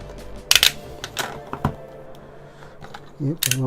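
A blade cuts through the sides of cardboard packaging on a camera box, giving sharp slicing scrapes and taps in short irregular bursts, with a brief rustle near the end.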